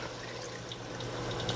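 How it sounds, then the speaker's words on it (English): Water from a water bottle cooler is poured into a pot over meat, a faint, steady splashing flow that stays even throughout at low level. "I just poured some water off from our water bottle cooler, and I'm going to top this off"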